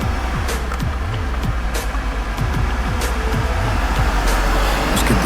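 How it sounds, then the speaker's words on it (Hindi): A car engine accelerating as a horror-story sound effect, with repeated rising and falling engine whines and revs over a loud, continuous low rumble. "उसने गाड़ी की रफ्तार बढ़ा दी।"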